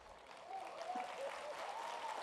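Steady applause from an audience of women at an International Women's Day celebration at Symbiosis, a dense, continuous patter of many hands that swells slightly after the first half-second and holds at an even level.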